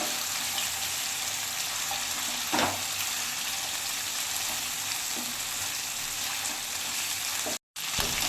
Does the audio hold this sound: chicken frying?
yes